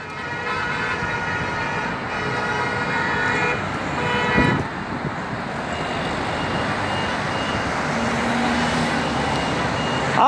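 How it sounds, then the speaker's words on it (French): Vehicle horns honk amid steady road traffic at a motorway toll plaza on the A13 near Mantes-Buchelay during a protest, with a sharp louder burst near the middle over a continuous engine rumble. "Klaxon!"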